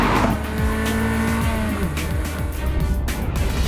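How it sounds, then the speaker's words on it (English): Roding Roadster, a 320-horsepower carbon fibre sports car weighing 950 kilos, revs hard on a mountain pass road, its engine note rising and falling through gear changes with tyres squealing, close and loud. "It is the Roding Roadster. An exotic car made from carbon fibre yearns to be driven."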